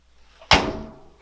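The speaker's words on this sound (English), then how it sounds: "Now what you want to do is close the door to the dryer like so." A Samsung clothes dryer door swings shut with a single sharp thump, close and fairly loud, its brief ring decaying over about half a second before a faint click.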